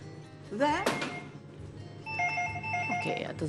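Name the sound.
telephone ringing with an incoming call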